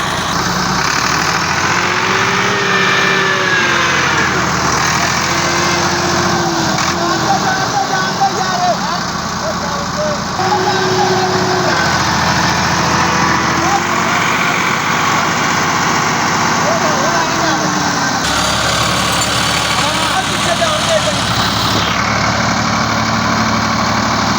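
A tractor engine runs loud and steady, revving hard and labouring continuously as the stuck tractor strains under a heavy load on a climb, with someone talking over the noise throughout.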